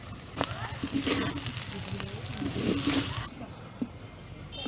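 Spiny gourd (kakrol) frying as bhaji in a pan gives a steady close sizzle with soft stirring scrapes, fading to quieter hissing near the end.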